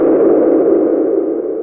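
Noise fed through an Ableton echo device with a very high delay time rings into a dense, steady resonant tone, loud and sustained without pause.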